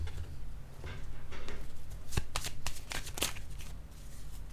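Tarot cards being shuffled by hand, a continuous close papery riffle and flutter with a few sharper slaps and snaps, no talking.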